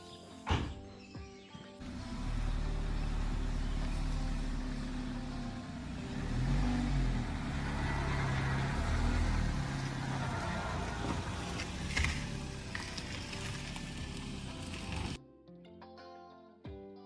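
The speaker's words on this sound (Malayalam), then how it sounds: "കാർ എടുത്തിട്ട് പോവാണ് കേട്ടോ" A car engine drones steadily as the car drives along, with low road rumble and some mechanical rattle, fairly quiet and close, after a brief start and before a sudden cut near the end.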